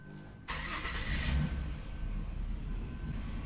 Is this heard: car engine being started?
yes